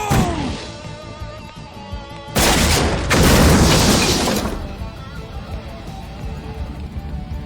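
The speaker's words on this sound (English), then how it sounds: "Sonic Boom!" A loud Sonic Boom special-move blast from Street Fighter character Guile bursts out with a sharp, roaring crash in a video game, lasting about two seconds over a rumbling, music-filled background.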